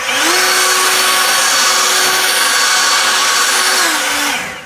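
Cordless battery leaf blower from Ryobi 18V or EGO 56V running in normal mode, a steady loud whirring airflow with a constant motor whine that spins up at the start and winds down at the end.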